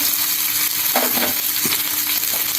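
Curry leaves sizzling in hot oil for sundal: a dense, close frying hiss with a few brief crackling pops and a light stir, no voices.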